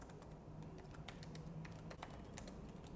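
An email message is typed on a computer keyboard in MS Outlook: quiet, quick key taps in an uneven patter, heard alone at low volume.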